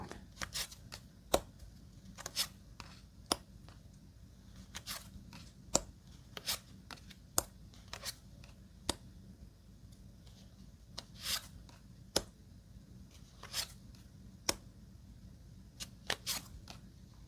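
Playing cards drawn and placed during a patience game of the Canfield type, heard as soft, close, sharp flicks and taps at irregular intervals over a quiet background, with no talking.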